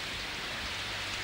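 Rain falling steadily, a dense, even hiss with no breaks and no voices.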